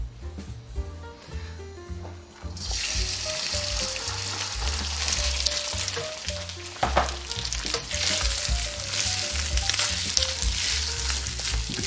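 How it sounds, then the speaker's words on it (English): Chicken fried rice stir-frying in a hot wok, starting with quieter clatter and background music before a loud, dense sizzle bursts in and continues with scraping stirs, close and continuous. "you ever hear stir fry? That's because you are stirring a lot"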